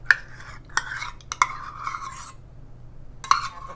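A small spoon scoops yogurt into a bowl, giving a few sharp clinks against the bowl and a short soft scrape, close and fairly quiet, with pauses between strokes and no talking.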